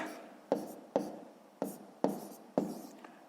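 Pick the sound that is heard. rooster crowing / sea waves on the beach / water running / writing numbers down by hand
writing numbers down by hand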